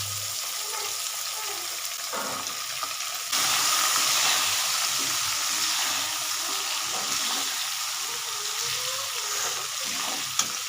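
Onions and two chilies frying in hot oil with garlic in a pan, a steady hiss that jumps louder as they hit the oil and then settles into continuous sizzling, with faint stirring scrapes.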